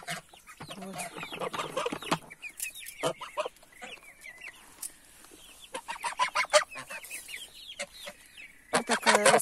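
Young feathered-legged chickens, the offspring of a red rooster, cluck and chirp in a busy farmyard flock, with many overlapping calls near and loud.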